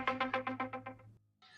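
A phone rings in a quick series of about eight bright, evenly spaced electronic chirps, close and clear, then stops abruptly before a short burst of other sound.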